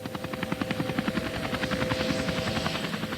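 A police air support helicopter's rotor thuds in a fast, steady chop with an engine whine underneath, hovering fairly close and holding a constant loudness.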